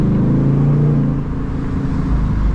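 2024 Ford Mustang GT engine heard from inside during a drive, a steady low rumbling drone close up with a slight rise and fall in pitch.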